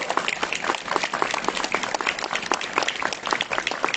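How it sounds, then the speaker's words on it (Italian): Crowd at a solemn outdoor procession of the Madonna del Vaiolo in Taglio di Po applauding the bishop, a steady, fairly close patter of many hands clapping continuously throughout. "accogliamo anche il nostro vescovo, gli facciamo un applauso"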